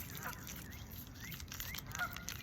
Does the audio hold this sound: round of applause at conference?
no